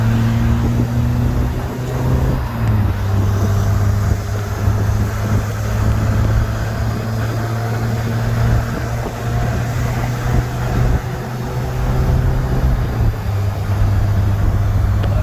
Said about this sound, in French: ça marche toujours aussi bien la voiture